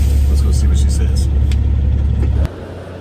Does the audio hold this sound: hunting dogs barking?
no